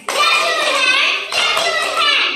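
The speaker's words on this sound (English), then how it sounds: "Clap your hands, clap your hands." Children clap their hands along to an English action poem in a classroom, producing quick bursts of claps under a teacher's chanting voice, with a short pause midway.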